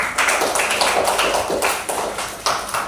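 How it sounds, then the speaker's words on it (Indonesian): Students in a classroom clap together for a classmate, a dense, steady burst of close handclaps lasting throughout with no talk over it. "tepuk tangan dulu"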